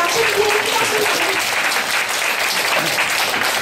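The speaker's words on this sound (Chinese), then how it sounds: "掌声欢迎赵丽君老师" A children's science-event audience bursts into steady, loud applause welcoming the lecturer, a dense continuous wash of clapping lasting throughout with no talk over it.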